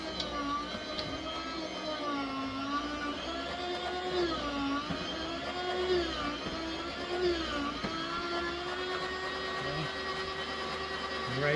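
A VEVOR electric meat slicer runs steadily through smoked picnic roast, giving a continuous motor whir with a prominent steady tone and faint rhythmic changes as slices are cut, fairly quiet and close, with no talking.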